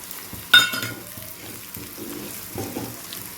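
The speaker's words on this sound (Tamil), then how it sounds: "நல்லா வெந்துக்கு இந்த கருவாடை போடுறோம்." Dried fish (karuvadu) dropped into a hot pan, a sharp splash of sizzle at the start settling into steady close frying crackle with occasional stirring scrapes.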